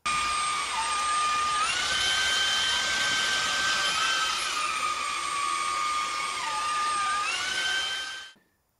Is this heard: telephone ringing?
no